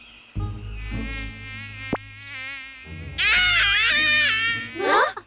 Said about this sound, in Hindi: मच्छरों, चले जाओ यहाँ से।